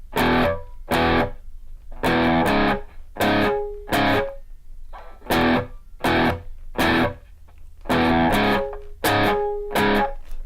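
Measures three and four of a riff play on a heavily distorted electric guitar: loud chugging chord stabs in repeated short bursts with brief gaps, a steady driving rhythm, the pattern repeating across the passage.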